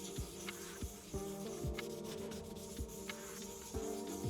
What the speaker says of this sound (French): Quand vous poncez au 2000, prenez une zone plus large.